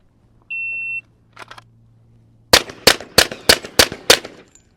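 A shot timer beeps once, then after a pause a Kimber Rapide 1911 pistol fires six sharp, loud shots in quick succession at a range, with faint handling noise between beep and shots.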